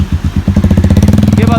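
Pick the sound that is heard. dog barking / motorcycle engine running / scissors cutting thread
motorcycle engine running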